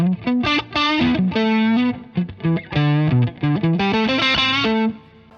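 An electric guitar plays through the overdriven channel of a Carvin X100B amplifier, giving a run of distorted, sustained melodic notes and phrases with short pauses between them. The tone is loud and up front, with no talking.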